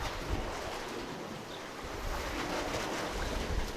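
Water from passing boat wakes sloshes and slaps continuously close under a paddleboard outdoors, mixed with gusty wind buffeting the microphone.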